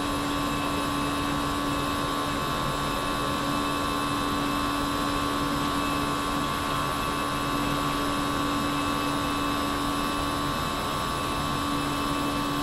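A320 jet engines run at takeoff power in the X-Plane flight simulator, a steady, loud roar with a high tonal whine that holds unchanged for the whole stretch, with no talking.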